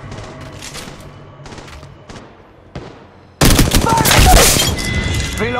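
Gunfire from the R-301 Carbine in Apex Legends Mobile: a few sparse shots and pops, then a sudden loud burst of sustained automatic fire with heavy booms filling the last couple of seconds.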